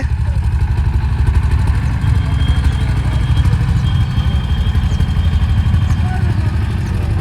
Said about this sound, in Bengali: এবার লঞ্চটা এইদিকে চলে যাচ্ছে।